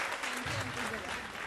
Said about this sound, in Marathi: जोरदार टाळ्या मयुरीसाठी आपण वाजवल्या पाहिजे.